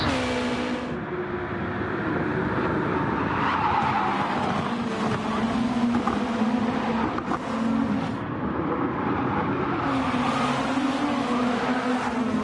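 Super GT race cars in a PlayStation racing game roar as a pack at High Speed Ring, engines droning loud and steady with tire squeal throughout, no talking.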